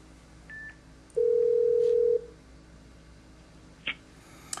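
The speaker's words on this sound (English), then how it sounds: "Let's establish a phone call." A steady telephone tone sounds for about a second on a Mitel 6900 series desk phone, with faint clicks and beeps around it in a quiet room.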